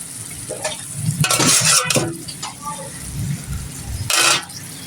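Broth is poured into a pan of sizzling, spicy fried eggplant, which sets off bursts of loud hissing and bubbling with stirring scrapes. It settles briefly, then flares up again near the end, close by.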